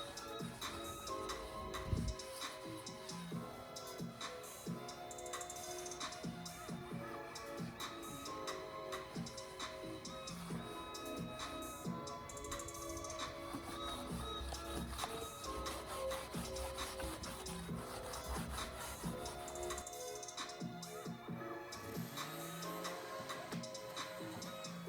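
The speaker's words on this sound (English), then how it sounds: "I scrubbed it all down with steel wool and mineral spirits to deactivate the stripper" Steel wool and mineral spirits are scrubbed over a stripped wooden mid-century dresser in continuous close abrasive rubbing strokes, a steady gritty rasp the whole way through.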